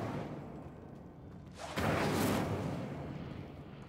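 A fire spell cast in the video game Hogwarts Legacy bursts out as a sudden loud whoosh and roar that swells and then slowly fades over a low game ambience.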